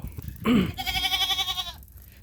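A goat gives one loud, close, wavering bleat lasting over a second, starting with a short rough cry and fading into quiet background.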